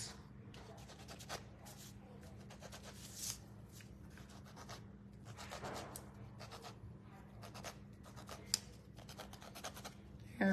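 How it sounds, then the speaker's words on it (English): A wooden spindle is rubbed by hand with worn sandpaper, making a continuous dry scratching and rasping in quick back-and-forth strokes, close and moderately loud over a low steady hum. "I feel like my sandpaper kind of got worn down."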